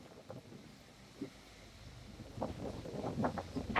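Wind gusts buffet the microphone, starting faint and swelling into stronger rumbling blasts over the last couple of seconds.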